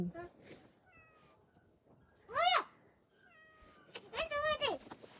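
A cat gives two clear, close meows, one in the middle and a longer wavering one near the end, between quiet stretches with soft talk in the background.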